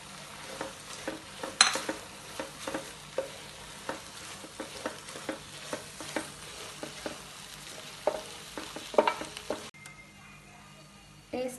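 Tomato juice, fried onion and curry leaves stirred in a frying pan for channa masala, with soft rhythmic scrapes of the spoon over a low sizzle, heard close up.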